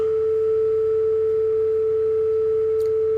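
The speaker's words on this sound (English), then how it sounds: "So let's start with just a 440 hertz tone." A pure 440 hertz sine tone sounds steadily and clearly on its own, unchanging for a few seconds over a faint background hum.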